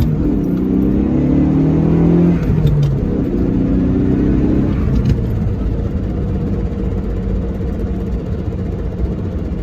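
An Eagle Talon TSI, a front-wheel-drive turbo car, accelerates hard from 0 to 60: the engine note rises loudly, drops at a gear change, climbs again, then settles into a steady roar of road and wind noise.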